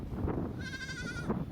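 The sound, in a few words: goats bleating in Djibouti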